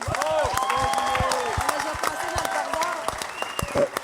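An audience at a French comedy stage show applauds, with steady clapping mixed with whoops and raised voices that rise and fall over a few seconds.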